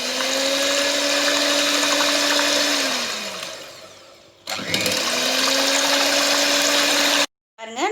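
A kitchen blender churns curd into buttermilk, a loud steady motor whine that sags and slows, stops briefly, then spins back up before cutting off abruptly near the end.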